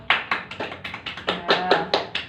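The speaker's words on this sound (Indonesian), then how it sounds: "Beri aplaus pada Mbak Naila" Small classroom applause for a student, a few hands clapping in a short, uneven burst of around a dozen distinct claps, close and fairly loud.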